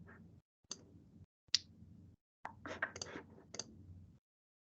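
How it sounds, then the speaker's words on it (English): A computer mouse clicks several times in a quiet room, sharp isolated ticks followed by a quicker cluster of clicks, close and crisp with near silence between them. "I just click publish again."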